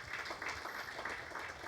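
A church congregation applauding after a sermon prayer, a dense, steady patter of clapping that fills the room at moderate volume with a faint voice underneath.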